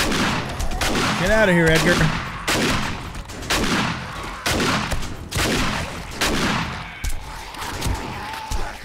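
Shotgun blasts in 7 Days to Die on a zombie horde night, loud sharp reports about every second, each one decaying quickly, with someone briefly talking over the first shots.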